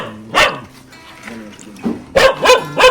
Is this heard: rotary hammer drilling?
no